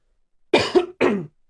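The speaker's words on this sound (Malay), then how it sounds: "Batuk pula ni." Two sharp coughs close to the mic, the first with a quick double catch, followed by silence.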